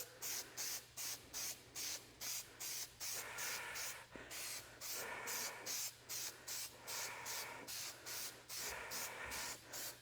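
Plasti Dip aerosol can sprays in a steady series of short hissing bursts, roughly two per second with a longer continuous stretch in the middle, close and fairly quiet, with no talking.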